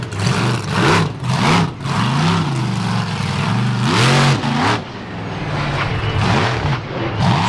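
A monster truck's engine revs hard through a freestyle run at the Fall 4-Wheel Jamboree Nationals in Indianapolis, with loud, repeated throttle surges rising and falling in quick bursts and close, crackling roars between them.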